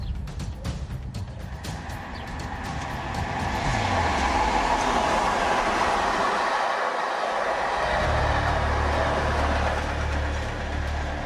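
A train locomotive rumbles past, a loud sustained roar with a low engine drone that swells and holds steady.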